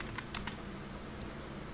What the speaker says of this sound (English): you just need to type net